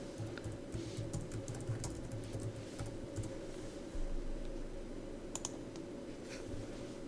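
Laptop keyboard keys tapped in quick irregular bursts as a password is typed again, close and steady over a low room hum, with no voices.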